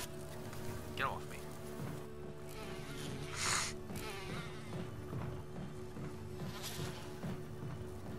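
Swarming bees in the Resident Evil Origins Collection drone in a steady insect buzz. The hum stays constant behind game sounds, with brief swells and bursts.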